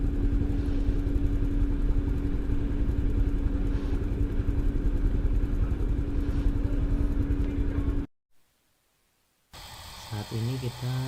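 Motorcycles wait to roll onto a ferry at a harbor pier around dawn. A steady, droning engine rumble with an idling hum holds for about eight seconds, then cuts off abruptly into near silence before a different, uneven clattering noise starts.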